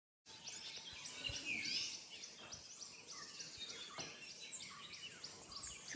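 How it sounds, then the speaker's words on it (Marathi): Birdsong and insect chirps fill a hillside valley near a village temple at Ganpatipule, a steady mix of small calls at moderate distance with no talking. "पक्ष्यांचा आवाजही"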